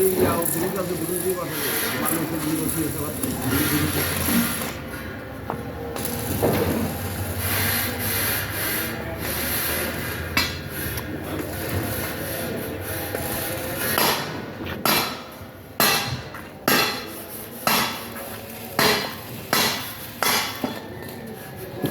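Scraping and rubbing on rusty iron being cleaned for painting, a dry broadband scratching that runs steadily and then turns into a string of sharp, evenly repeated strokes near the end, with some speech mixed in.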